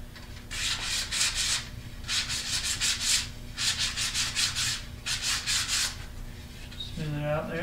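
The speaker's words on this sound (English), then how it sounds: "I've got some 150 grit sandpaper, and I'm going to go over this and just get anything that has been missed" A wooden banjo pot is hand-sanded with 150 grit sandpaper in quick bursts of scratchy back-and-forth strokes, close and fairly loud, with brief pauses between sets.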